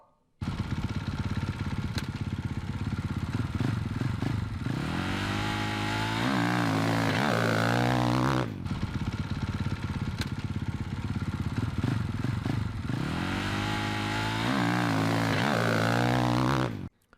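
A motorcycle launches from a standstill on concrete with moderate throttle, its engine revving up through rising pitch twice in succession, loud and close, with no talking.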